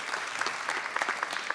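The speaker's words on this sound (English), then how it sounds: "Round of applause." A keynote audience at an eBay commerce platform talk breaks into steady, dense applause, a continuous close patter of many hands with no pauses.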